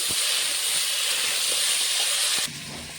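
Vegetables fry in an uncovered pan while being stirred, giving a loud, steady hiss with faint scrapes. The sizzle drops abruptly to a softer level near the end.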